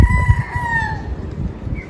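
A sweater-line gamefowl rooster on a Tagaytay farm lets out a single clear crow, drawn out and ending in a falling tail, with low clucking and farmyard noise underneath.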